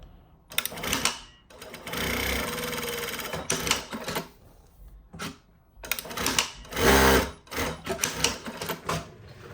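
A Juki DDL 8000A industrial sewing machine stitches in loud mechanical bursts, with short pauses between runs and a strong final burst, alone without talk.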